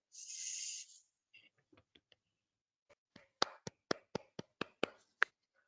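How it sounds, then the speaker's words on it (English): A few people clapping near the close of a medical teaching session, a short series of about nine crisp, separate claps in a quick, even rhythm after some faint scattered sounds. "Just Really clapping for you, Dr. Damle, clapping for you."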